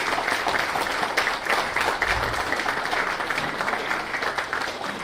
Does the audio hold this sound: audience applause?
yes